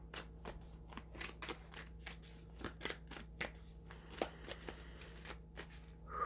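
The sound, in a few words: shuffling oracle cards to pull a clarifier card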